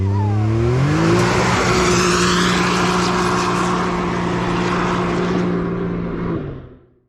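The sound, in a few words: Can-Am X3 Turbo RR side-by-side accelerating off the line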